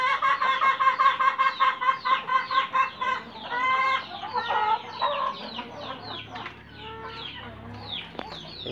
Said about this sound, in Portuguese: Essa galinha índio gigante aí, muito boa.